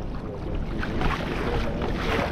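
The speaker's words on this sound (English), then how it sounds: "Just a nice gentle little breeze blowing, probably around 8 to 10 knots" Steady broadband wind rush from a gentle 8 to 10 knot breeze over the sea off Sydney, buffeting around a kayak with soft water movement, continuous and close with no talking.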